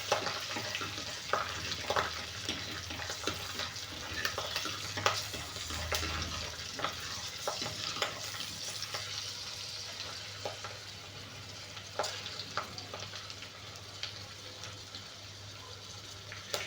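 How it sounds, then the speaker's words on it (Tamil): Onion and garlic sizzle steadily in a hot pan, with a constant frying hiss and scattered scraping clicks of stirring throughout, close and alone without talk. "வெங்காயமும் அப்படியே தாங்க போட போகிறேன்."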